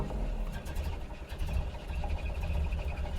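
A 1930 Ford Model A Tudor sedan engine chugs at a steady idle after starting, a low, uneven mechanical rumble with faint ticking, heard close up and without talk.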